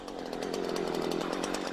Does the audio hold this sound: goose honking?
no